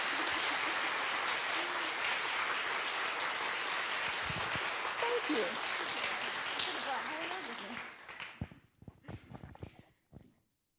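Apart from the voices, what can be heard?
audience applause at an awards ceremony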